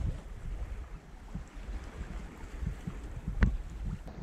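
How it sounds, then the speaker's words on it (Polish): Steady wind rushing over the Baltic Sea from aboard a boat, a continuous broadband roar with low buffeting gusts and a brief sharp knock near the end, no voices. "Z wiaterkiem to kurs spokojny, nie odczuwamy wcale tego wiatru, chłodu, a wiaterek jest"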